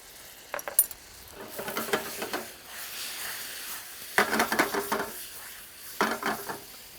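Butter sizzling in a pan with sliced banana and lemon juice, heard as soft bursts of frying crackle mixed with scraping and clinks of a utensil against the pan, coming in a few separate spells.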